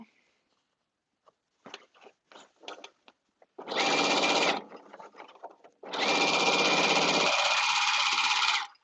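A sewing machine stitches a caftan seam in two long, loud whirring runs, the second continuing after a brief pause, with a few short handling clicks before the first run.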